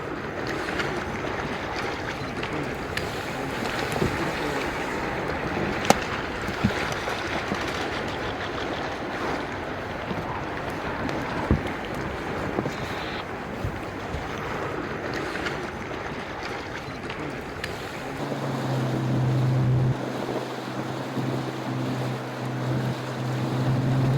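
Steady wind roars and buffets the microphone aboard a boat off Antarctica, with waves washing against the hull under bright weather; a low engine hum rises near the end, and no one speaks.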